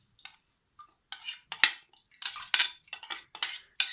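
Washed red lentils tipped into a metal pressure cooker pot, heard as a series of short, sharp clinks and rattling pours separated by near-silent gaps.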